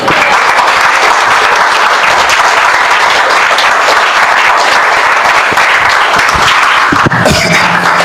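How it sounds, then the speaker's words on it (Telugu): A church congregation claps together in sustained, loud, steady applause that fills the whole stretch, with a brief dip near the end. "పరలోకానికి వినపడాలి మన చప్పట్లు."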